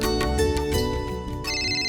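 A telephone rings with a steady electronic ringtone, a bright, repeating melodic tone that is loud and close indoors, with no one talking over it.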